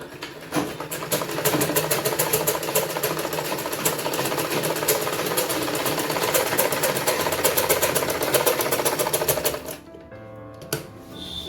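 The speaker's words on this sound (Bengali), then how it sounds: "এটা আমি সেলাই করে দেবো" A sewing machine stitches a salwar in one loud, continuous run of rapid rhythmic clatter, then stops abruptly near the end, leaving a quieter tail.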